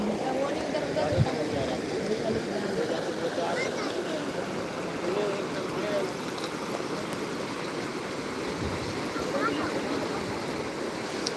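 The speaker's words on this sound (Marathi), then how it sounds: "पुलाच्या वरून पाणी गेले भाऊ" Floodwater rushing over a bridge during heavy rain in Nanded, a steady loud roar of flowing water with rain, under occasional talk.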